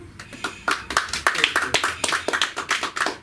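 A comedy club audience at a stand-up night claps in a quick, uneven burst of many hands, fairly close, with a voice speaking briefly under the applause.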